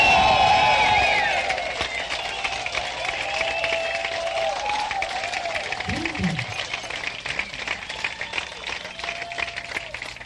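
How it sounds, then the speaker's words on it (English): Concert crowd at a 1992 live rock show in Germany applauds and cheers for the band, a loud wash of clapping and shouts that is strongest at the start, then settles into steady applause with whistles and cries. "I want to hear some fucking good applause for these musicians."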